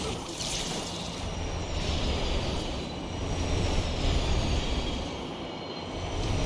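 Trains rush by in the video game Destiny 2, a loud continuous rolling roar with a hissing top that builds toward the middle before easing slightly, heard alone without voices.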